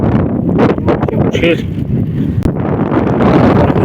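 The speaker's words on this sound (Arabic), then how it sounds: "كاين شويه ديال الريح" Wind on a desert road near the Algerian border in southern Morocco roars steadily across the microphone as someone talks over it.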